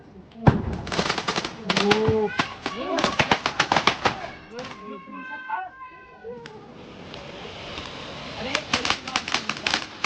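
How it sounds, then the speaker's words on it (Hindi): Sharp Diwali firecracker bangs burst in quick irregular clusters, with voices chattering between and around the pops. "पटाखे फोड़ लिए"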